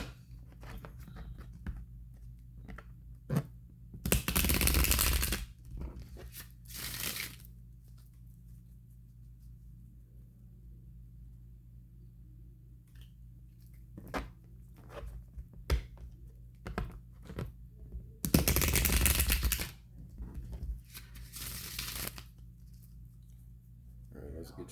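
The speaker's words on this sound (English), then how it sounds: "So let's get your card shuffled up." Tarot cards are shuffled by hand in two loud riffling bursts separated by quiet stretches, with softer card taps and handling sounds in between and occasional faint talking.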